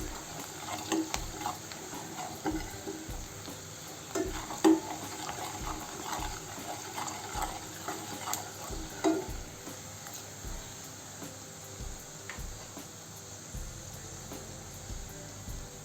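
Chilli powder and salt are stirred with ivy gourd in a pan, heard as a faint, low sizzle with irregular scraping and clinking of the spoon against the pan throughout.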